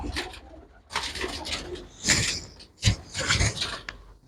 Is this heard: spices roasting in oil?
no